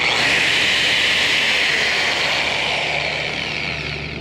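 A Bosch 5-inch 13-amp angle grinder with a paddle switch spins at full speed with a loud, steady high-pitched whine that fades slightly at the end, with no one talking.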